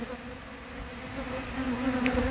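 Honey bees buzz around a hive, a close steady drone with wavering pitch, growing slightly louder toward the end.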